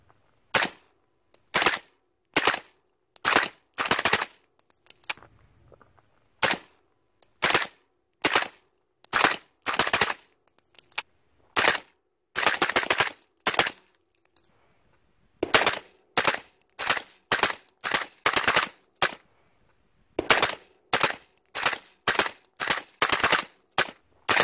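A suppressed 300 AAC Blackout rifle with a double-tap trigger fires repeated sharp shots outdoors at a range, often in quick pairs and short strings with brief pauses between volleys.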